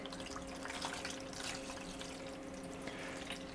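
Heated RA4 Blix colour-processing chemistry is poured into a developing tank, a soft, continuous liquid trickle and splash, faint and unbroken throughout.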